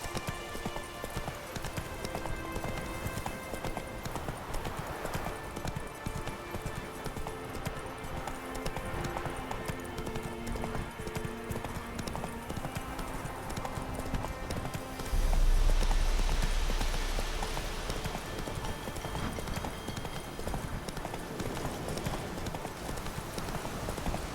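Roach the horse galloping in The Witcher 3, a steady, rapid clip-clop of hooves running under continuous game music and ambience, swelling louder for a moment late on.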